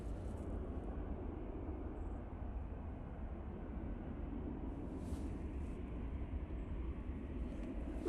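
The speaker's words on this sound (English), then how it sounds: "And that's the EasyJet A320-200, and that's going to Copenhagen." An EasyJet Airbus A320-200 departs Manchester Airport, heard as a faint, distant, steady engine rumble that holds evenly throughout with no voices.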